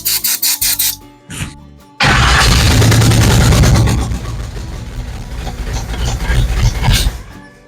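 A Vortec 350 V8 newly fitted with a 700R4 transmission in a 1970 Chevrolet C10 cranks in a few rhythmic chugs, pauses, then fires and settles into a loud, rough, close-up idle.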